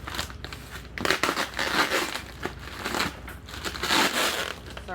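Olympic color rod order being unboxed, packaging crinkled, torn and ripped apart in close, busy bursts of rustling and crackling with no talking.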